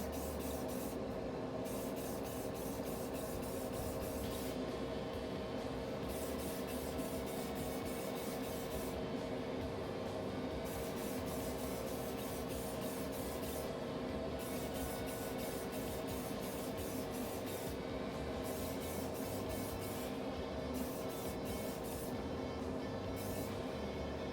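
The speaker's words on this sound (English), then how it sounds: "And then we're going to go ahead and start spraying." A spray gun hisses continuously at low level, spraying paint onto a pencil in a spray booth, with faint rhythmic breaks in the airy spray sound.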